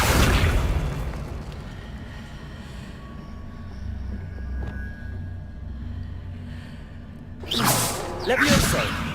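Accio summoning spell cast in Hogwarts Legacy: a loud whooshing burst at the start, a low rumbling stretch, then a second sharp swoosh near the end; a voice is faintly present.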